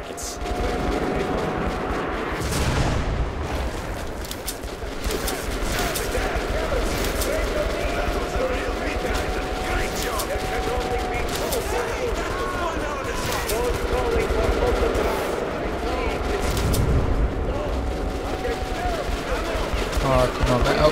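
Railgun shots ring out in the shooter game Metro Last Light, sharp bursts recurring amid a steady din of other gunfire and combat noise, with someone talking over the action throughout.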